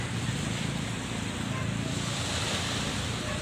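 Tsunami sea waves surge onto a beach at Mati City, Davao Oriental, as a steady, close roar of rushing surf under heavy wind buffeting, with no clear breaks across the stretch.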